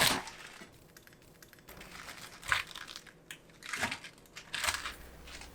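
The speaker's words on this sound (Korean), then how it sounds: "청경채는 꼭지 부분을 잘라내고" A knife cuts through bok choy stems on a cutting board, giving a few crisp, crunchy chops spaced a second or so apart, near and fairly quiet.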